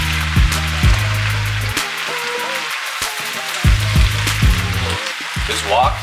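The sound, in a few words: green peppers frying in sesame oil in a wok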